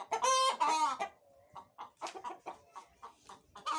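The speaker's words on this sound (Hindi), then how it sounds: "हमारी मुर्गियों ने शोर डाला हुआ है।" Chickens at a farm homestead make a loud rooster-like crow at the start, followed by a run of scattered clucks and squawks, close by with no talk over them.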